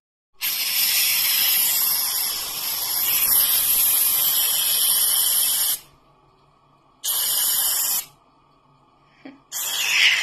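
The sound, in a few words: spray being sprayed on hair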